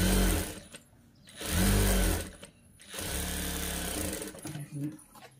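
Close up, a sewing machine runs a stay stitch on a child's frock cut from an old saree, in three separate bursts divided by short quiet pauses.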